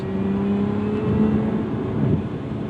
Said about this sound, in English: the supercharged nature has this unique whine and still maintains a linear and immediate throttle response